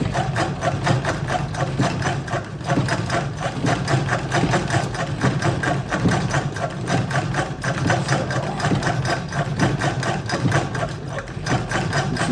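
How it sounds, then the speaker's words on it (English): A 100-year-old treadle sewing machine runs steadily throughout, its needle mechanism clattering in a fast, even rhythm with a low mechanical hum underneath. "What it's like to sew on a 100-year-old sewing machine."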